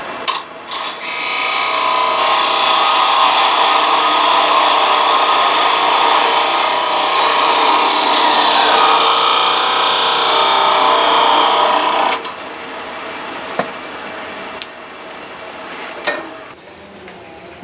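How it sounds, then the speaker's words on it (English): A small skew chisel cuts wood on a spinning lathe, a loud continuous rasping hiss that holds for about twelve seconds before stopping, followed by quieter scattered taps and scrapes. "I used the tip of a small skew there because it wasn't getting quite close enough to suit me"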